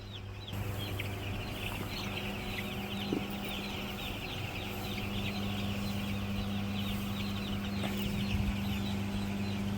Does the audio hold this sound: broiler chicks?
yes